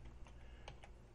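Soft, quick keystrokes on a computer keyboard, a handful of light taps over a second, faint under a steady low hum.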